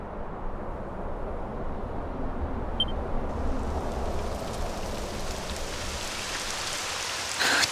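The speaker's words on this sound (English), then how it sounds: "It would have to go and start raining, wouldn't it?" Steady video game rain from Dragon Quest XI hisses and patters across surfaces, a continuous dense wash of droplets at moderate volume with no voices.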